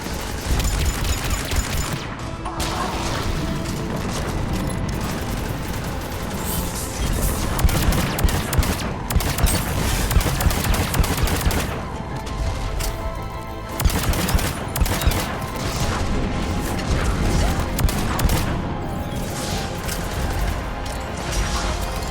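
Dense, continuous rapid-fire gunfire and booming cannon blasts from Mass Effect 3 fill a loud battle scene, with crashes and mechanical clatter running throughout.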